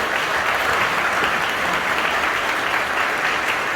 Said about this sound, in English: So please again give yourselves a round of applause for all the work that you do for your clients and our community.